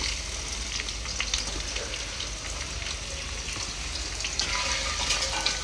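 Whole garam masala, cinnamon, cloves, cardamom, dried red chilli, cumin and chopped onion frying in oil, a soft continuous sizzle with light popping throughout, no voices.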